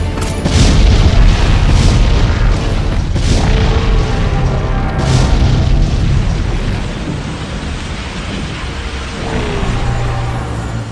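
Cannon fire and explosions pound through a battle in the Halo Reach video game, a loud, continuous low rumble of heavy booms that swells and eases in waves over several seconds.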